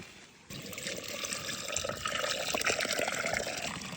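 Water runs and splashes continuously, a steady gurgling flow that grows a bit louder after a soft start.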